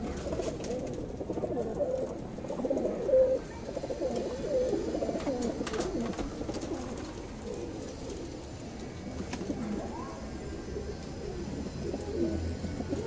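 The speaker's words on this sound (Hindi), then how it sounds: "ये सारे कबूतर सेल के लिए हैं।" Pigeons kept for sale in a loft, including Madrasi and Punjabi flying breeds, fill the space with steady overlapping low coos and occasional flutters, close by and without speech.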